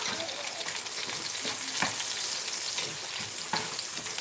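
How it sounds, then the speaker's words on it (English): Green bell pepper frying in a pot for Cameroonian party jollof rice, with a steady close sizzle and crackle running throughout and occasional brief louder pops. "It's now frying inside there."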